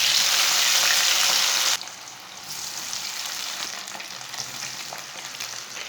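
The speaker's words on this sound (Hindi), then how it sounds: "अब आलूओं को भी फ्राई कर लेंगे।" Potatoes frying in oil for aloo chicken: a loud bright sizzle that drops abruptly after about two seconds, then settles into a softer, steady crackling fry, no voices.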